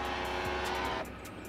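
Alfa Romeo Spider convertible engine revving hard under acceleration, a dense, steady roar that is loud and close, then drops abruptly to a lower hum as the car changes gear.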